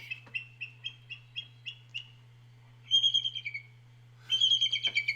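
A baby crow calls repeatedly near an eagle nest in White Rock: a series of short, regular begging caws, then quicker, louder clustered calls, fairly close, over a steady low hum.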